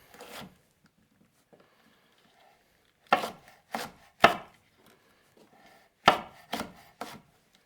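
Chilies being chopped for curry paste, with sharp knife strokes on a board coming in short bursts: a quick cluster of three, then a pause and another cluster of three, close and clear in an otherwise quiet room.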